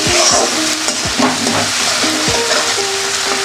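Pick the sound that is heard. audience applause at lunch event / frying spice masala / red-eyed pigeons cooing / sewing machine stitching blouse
frying spice masala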